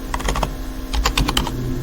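Rapid keystrokes on a computer keyboard while COBOL code is written in VS Code, coming in two quick irregular bursts of close, crisp clicks with no talking.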